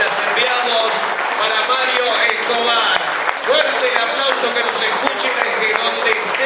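Audience applause at an evening awards gala honoring a departed colleague, a dense, steady wash of clapping sustained for several seconds with voices mixed in underneath.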